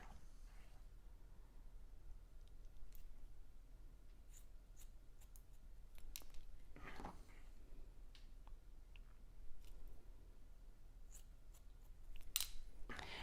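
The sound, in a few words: scissors cutting hair for a graduated bob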